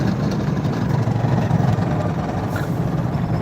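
A loud, steady semi truck diesel engine with a failing Jake brake rumbles and idles up close, a deep continuous drone without pauses.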